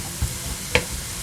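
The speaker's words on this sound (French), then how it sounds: "Donc on fait revenir nos aubergines." Aubergines fry in oil in a pan while cooking chakchouka. There is a steady low sizzle with a couple of brief stirring scrapes and clinks, close by and with no talking.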